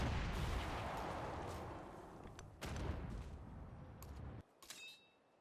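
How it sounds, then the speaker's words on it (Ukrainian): Heavy rumbling barrage of area bombardment explosions in Civilization VII with sharp cracks layered over it, dense and loud, then fading to scattered small impacts and a metallic ring. "Давайте спробуємо також АОЄ бомбардмент."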